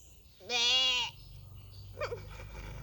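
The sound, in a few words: person imitating a goat bleating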